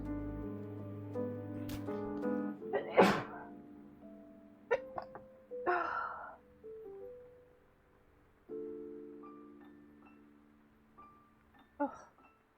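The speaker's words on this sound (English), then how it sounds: "Been sneezing so much." Several abrupt bursts from a person sneezing and coughing, spaced unevenly over a quiet background with soft sustained tones between them.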